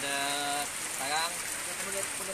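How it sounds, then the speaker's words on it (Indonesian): Rain falling steadily during a flood in Martapura, a dense continuous hiss close by, with whistling tonal sounds and some voice-like noise running through it. "Nah, ini untuk hujan."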